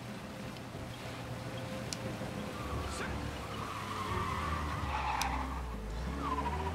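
Car tires skidding and squealing in the video game Mafia Definitive Edition, a steady slide with a few sharp squeals rising over the constant engine and road rumble.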